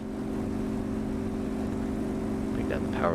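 Steady propeller aircraft engine drone in the flight simulator DCS World, flying over Syria, a constant loud hum with strong low harmonics and a faint rising whine near the end.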